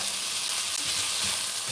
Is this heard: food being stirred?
yes